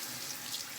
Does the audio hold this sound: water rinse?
yes